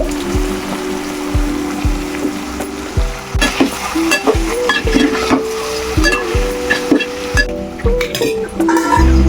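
Mutton curry with cucumber, green chillies and tomato pieces frying in a pot, a loud close sizzle broken by repeated clanks and scrapes of a spoon stirring at a steady rhythm, with no talking.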